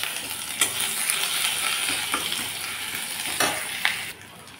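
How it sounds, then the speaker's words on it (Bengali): Dried red chillies, bay leaf and cumin sizzle steadily in hot oil as a tempering for dal, a dense continuous crackle with a few sharper pops and utensil taps, ending abruptly. "ডাল সম্বারের জন্য দিয়ে দিলাম 2 শুকনো লঙ্কা, তেজপাতা আর জিরা।"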